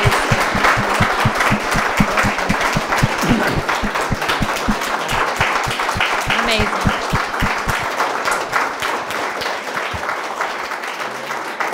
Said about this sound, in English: Can we all please give our three panelists a round of applause for amazing stories?